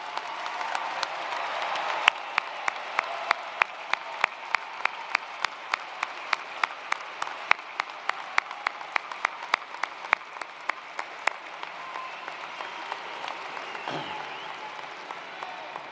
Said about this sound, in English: would you please stand so we can applaud your accomplishment?